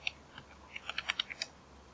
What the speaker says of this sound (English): and type in your password.